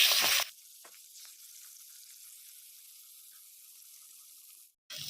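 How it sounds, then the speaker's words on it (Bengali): Pangas fish frying in hot oil gives a steady, moderate sizzle that runs on its own, with a louder burst at the very start and a brief one at the end. "মাছগুলো ভেজে নেব আমি।"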